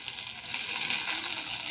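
Fish frying crisp in oil over a clay stove, a steady close hiss and sizzle with faint crackle running throughout, no voices.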